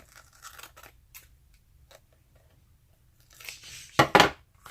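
Scissors trim a sheet of paper in a few sharp snips and crisp cuts, close and fairly quiet, with the loudest snips near the end.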